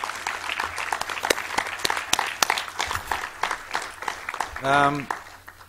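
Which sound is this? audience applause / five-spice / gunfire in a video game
audience applause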